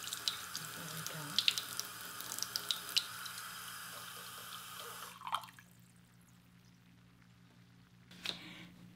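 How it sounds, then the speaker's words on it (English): A tap runs steadily into a sink with scattered drips, then shuts off, leaving near silence before one last small splash. "Let the water get warm."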